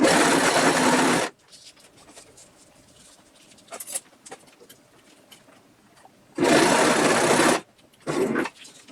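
A sewing machine stitches through backpack fabric in three loud, close bursts: a long run at the start, another late, then a short final burst. Quiet rustling and handling of the material fill the gaps between runs.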